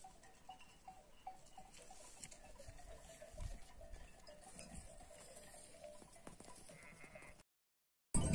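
Sheep bleat repeatedly in the open air, a nasal wavering call rising now and then over quiet outdoor background, ending in an abrupt cut.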